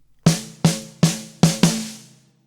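Five snare drum strokes make up the bar 24 fill from a song: crisp, ringing hits with the last two coming closer together.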